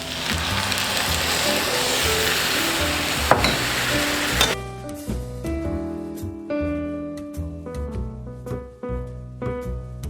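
Pad thai sauce mixture sizzles loudly in a hot pan with veggie noodles and egg, first a dense steady hiss, then a softer crackle broken by repeated scraping stirs and clinks of a utensil.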